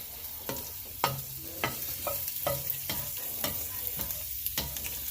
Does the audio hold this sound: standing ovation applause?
no